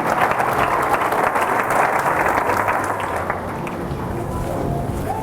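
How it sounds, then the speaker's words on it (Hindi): A church congregation at a Friday service claps loudly and continuously, a dense wash of applause that eases slightly toward the end. "हालेलुया, जोरदार तालियों से खुदा के नाम को देगा।"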